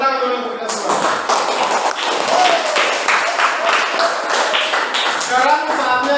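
A classroom group of students claps together, dense broadband patter filling about six seconds at steady loudness, with some voices and movement mixed in.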